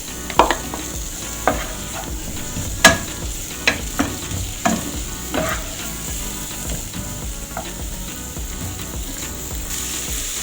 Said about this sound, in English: Onto the pan, I'm going to add onions.